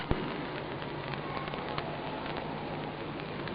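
Steady rain falls with a constant dense hiss and scattered faint drip ticks, fairly quiet and even throughout, with no talk heard.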